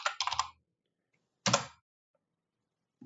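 Close, quiet taps on a computer keyboard come in two short bursts of clicks about a second apart, followed by a single faint tap after a silent pause.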